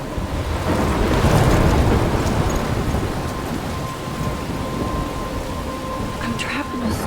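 Heavy rain and rumbling thunder roll through the Life Is Strange game, loud and continuous for several seconds, with a dense wash of downpour and low booming.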